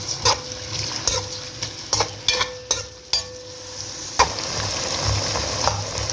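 Three roughly chopped onions with garlic frying in a pan of oil for an egg, pea and potato korma, a steady soft sizzle with intermittent stirring clatters and scrapes, close and without talk.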